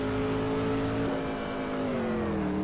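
Race car engine on an outlap on slick tyres, droning steadily and loudly with a clear pitch that rises and then sags as the car moves, with no talk over it.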